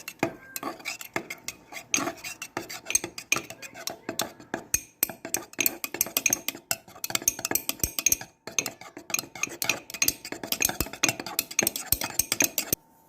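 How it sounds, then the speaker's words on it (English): A utensil stirs banana nut muffin batter in a bowl, giving a continuous run of soft scraping and light clinking taps against the sides, fairly close and steady throughout. "I'm just going to stir this together here"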